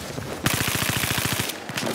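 Rapid automatic gunfire from the video game Battlefield 4, in a Team Deathmatch round on the Hainan Resort map: a loud, close burst of evenly spaced shots lasting about a second, followed by a quieter game background.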